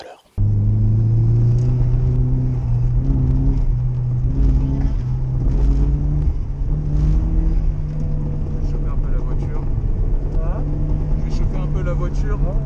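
Drift cars run a tandem session on a track, engines droning loud and steady with rising and falling revs layered over each other, close by and continuous throughout, with voices heard faintly beneath.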